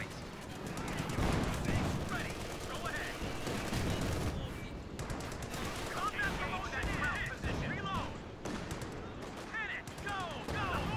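Dense gunfire, machine-gun bursts and explosions in the World War II strategy game Company of Heroes, loud and nearly continuous throughout, with voices heard between the rattling volleys.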